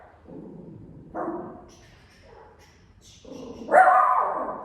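Dog barking indoors at someone outside, a few separate deep barks and muffled woofs followed by a louder, sustained bark, with no talk over it.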